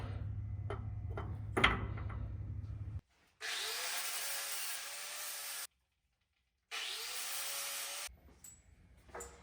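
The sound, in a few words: cutting down clips for Chevy S10 spool locker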